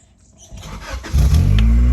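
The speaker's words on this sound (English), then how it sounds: "start it up, the car starts right away" A 1995 Honda Accord engine cranks briefly and then catches after an ignition switch replacement. It settles into a loud, steady idle that sits close to the listener.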